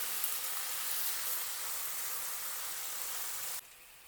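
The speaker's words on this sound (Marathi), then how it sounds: "आता इथे आपल्याला तीन ते चार मिनटासाठी असंच फ्राय करून घ्यायचं आहे" Vegetables frying in a pan for a green vegetable biryani give a steady, soft, broad hiss that runs evenly, then drops abruptly near the end.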